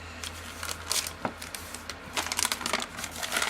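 Kraft cardstock paper crinkling and rustling as it is handled up close, a series of soft crackles and scrapes with a few sharper crinkles, no talking.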